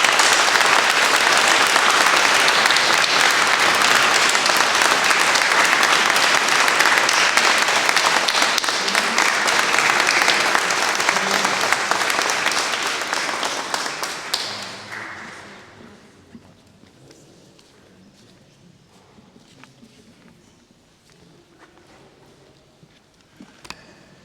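A church congregation at a Pentecost service applauds loudly and steadily for about fifteen seconds, then the clapping fades into scattered claps and room noise.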